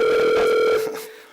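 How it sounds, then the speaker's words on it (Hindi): A phone rings with a sharp electronic tone, one loud burst of buzzing ring lasting under a second and then fading out quickly, with no voices over it. "आपका फोन आ रहा है।"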